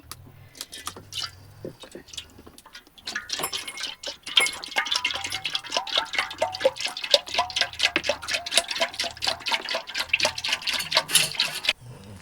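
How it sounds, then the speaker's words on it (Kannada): Fresh first-milk from a cow that has just calved is poured into a pot for a village sweet, giving a long run of close, rapid liquid splashes and trickles that build and continue steadily before stopping abruptly. "ಇಲ್ಲಿ ಒಂದು ಪಾತ್ರೆ ಇಟ್ಟಿದ್ದೀನಿ ಅದಕ್ಕೆ ಇವಾಗ ಕರೆದಿರೋ ಹಾಲನ್ನು ಹಾಕ್ಕೊಳ್ಳೋಣ"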